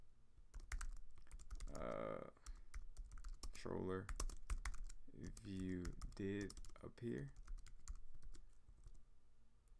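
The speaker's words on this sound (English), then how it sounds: "I could simply copy and paste, but I like typing." Rapid keystrokes clatter on a computer keyboard while coding in Swift, close and continuous, under a man's speech in the middle of the passage.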